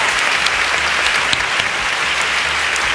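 A school audience in a classroom setting breaks into steady, dense applause, a continuous wash of clapping hands that stays loud and even throughout with no talking over it.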